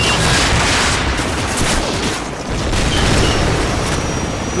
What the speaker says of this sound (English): So, grab another Stinger and fire again.